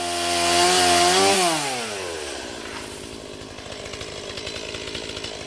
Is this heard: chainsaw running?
yes